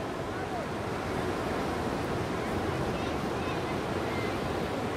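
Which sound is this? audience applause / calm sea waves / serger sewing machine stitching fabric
calm sea waves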